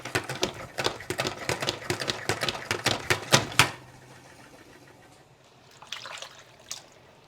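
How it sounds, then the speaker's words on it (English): Blanched grape leaves spun in a salad spinner give a quick, loud run of rattling, ticking clicks for about four seconds, then a quieter wet trickle and a few faint drips. "I'm just going to spin some of this water off of them"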